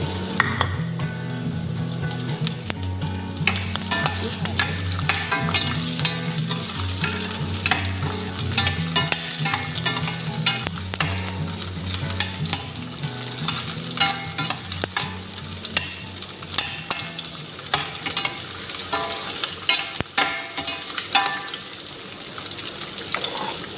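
Vegetables with onion, garlic and ginger fry in oil for ginataang gulay, a steady close sizzle with stirring and scraping running throughout, with no talk.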